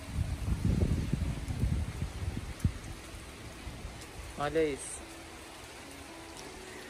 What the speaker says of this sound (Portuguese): Tá caindo um pé d'água.